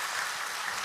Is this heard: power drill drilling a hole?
no